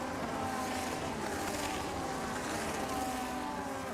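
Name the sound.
race car engine sound in a racing video game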